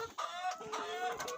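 Chickens in a deep litter poultry house on a small farm, a dense chorus of overlapping clucks and squawks close by, continuous and busy without pause.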